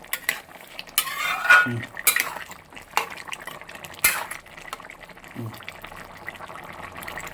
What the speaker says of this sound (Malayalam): നല്ലതായിട്ട് നന്നായിട്ട് അങ്ങോട്ട് ഇളക്കട്ടെ